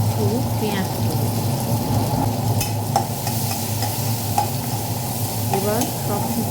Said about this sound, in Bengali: তখন আমি সামান্য পেঁয়াজ দিয়ে দিলাম এবং আবার নাড়তে থাকলাম।